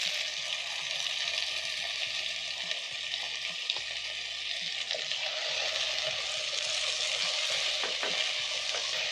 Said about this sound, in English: We are going to stir the tomatoes and cook for around a minute or so.